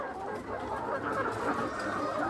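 Caged laying hens on a small egg farm make a steady, dense chorus of overlapping clucks and murmurs, continuous and moderately loud with no talk.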